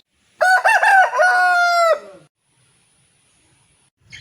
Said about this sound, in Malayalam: ഇതാണ് ഞങ്ങളുടെ അടുത്തുള്ള രണ്ട് ചേവലുകൾ